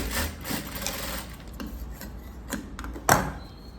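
A sewing machine stitches folded blouse fabric in short bursts, with rasping rubbing of cloth and a sharp clack near the end, close and fairly loud, with no talking.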